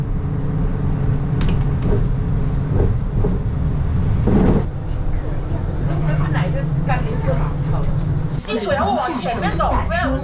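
Interior of a moving city bus on route 713 in China, with a steady low engine rumble and road noise throughout, plus rattles and a brief brake hiss near the end.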